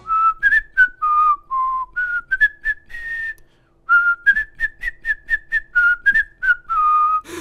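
A person whistles a lively, pitched tune in clear, bright phrases with short pauses, alone and close up with no other sound.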